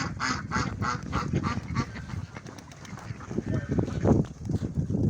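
Ducks on a pigeon keeper's property in Mykolaiv quacking and honking in a busy, overlapping chorus of repeated calls, close and fairly loud, with occasional other fowl sounds mixed in.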